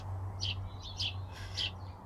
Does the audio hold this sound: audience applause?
no